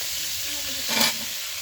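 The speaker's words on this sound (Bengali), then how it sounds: "ভাইজা নেবো ভালোভাবে" Close sizzling from a pan of frying food, a continuous hiss with a brief louder burst of crackle and stirring in the middle, no talk.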